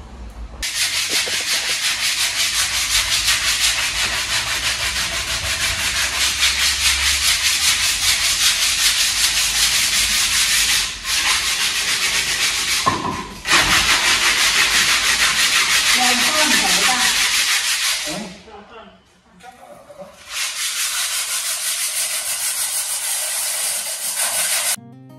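Steady, loud abrasive hiss of wood being sanded, running continuously with a couple of brief pauses, close by and with no talking.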